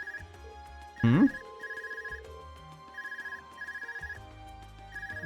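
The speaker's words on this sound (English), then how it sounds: "Is that your Arcus ringing? What's it doing ringing out here?" An Arcus communication device rings in a video game, a repeating electronic ringtone in evenly spaced bursts over quiet game background tones.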